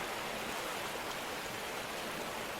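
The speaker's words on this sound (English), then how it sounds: "So over here we have the water pump." Steady rushing water from a water pump feeding a tier 2 mobile wash plant in the Gold Rush video game, a constant broadband hiss like a stream, fairly quiet and continuous with no talk.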